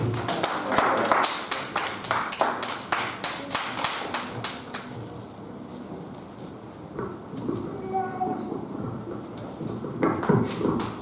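Congregation clapping hands in celebration during a church service, a dense run of sharp claps for the first several seconds that then thins out under murmuring voices, with a few more claps near the end.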